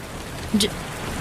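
Steady rain falls in a soft, even hiss, with one brief brighter patter in the middle of the short stretch.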